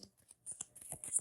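Oracle cards are shuffled near the listener in a quick run of soft, crisp flicks and slides lasting just over a second, with no talking over them.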